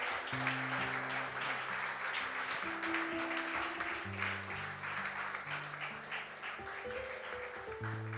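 Steady rhythmic clapping from a church congregation, continuous throughout, with music playing underneath.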